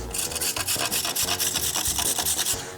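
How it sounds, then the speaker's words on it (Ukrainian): Carrots are rubbed against a hand grater into a bowl, a close, loud rasping scrape repeating in fast even strokes for the whole stretch, with no talking. "Тож беремо мисочку і починаємо натирати моркву."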